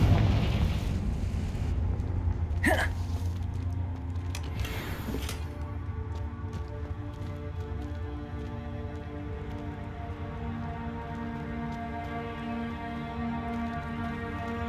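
In the Hogwarts Legacy video game, Confringo blast spells go off as a couple of sharp fiery bursts followed by a rumbling boom that fades into a long, steady ambient hum.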